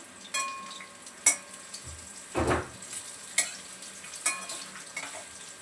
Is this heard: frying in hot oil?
yes